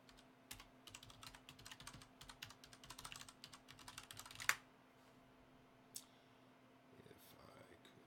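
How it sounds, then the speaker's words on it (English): Typing on a computer keyboard while editing IIS site bindings, a steady run of close, rapid clicks for several seconds that stops abruptly, followed by a couple of isolated key taps in quiet room tone. "if I could type everything correctly"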